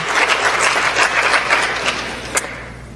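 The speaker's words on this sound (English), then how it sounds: "So let's give her a round of applause" An audience applauds a commended student at a school academic achievement and scholarship awards night, a dense burst of clapping that fades out over a few seconds, with no talking.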